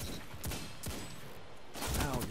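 Hand cannon gunfire in the Destiny video game, a few sharp shots in quick succession amid busy game sound, with a voice talking faintly underneath.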